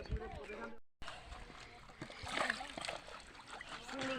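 Water splashing in a village pond, irregular sloshes and splatters under someone speaking, with a brief dropout near the start, then a fuller stretch of splashing and outdoor voices.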